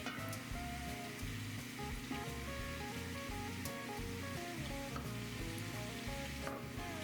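Oil and flour roux sizzling steadily in a big cooking pot as it is stirred continuously, a soft, even frying hiss with faint scraping, alone and fairly quiet throughout.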